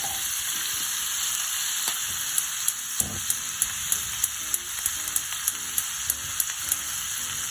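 Whole garlic cloves fry in a little butter in a smoking-hot pan, a dense, steady close-up sizzle with faint crackles and a series of light, regular ticks running through it.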